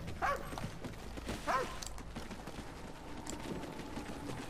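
A dog barks twice in the shooter Call of Duty: Ghosts, quick sharp woofs close by over a busy bed of game ambience and clatter, followed by quieter background noise.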